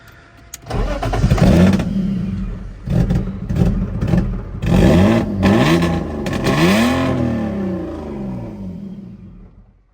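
A car engine cranks, catches and runs unevenly, failing to idle, revving up and down in loud surges before settling lower and fading out.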